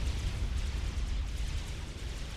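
Flak cannons firing in the real-time strategy game Supreme Commander: Forged Alliance, a dense rumble of continuous booming bursts layered into one loud, unbroken wash of battle noise.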